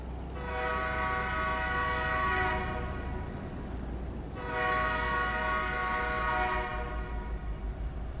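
A train horn sounds in two long, steady blasts from an unseen train, ringing over a continuous low rumble with a short gap between them.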